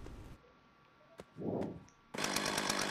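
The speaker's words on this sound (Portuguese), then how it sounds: "Motosserra novo. O áudio." A chainsaw from GTA San Andreas with a high-quality sound mod gives a short burst, then idles with a low rumble, then roars into a loud, steady buzzing rev to the end.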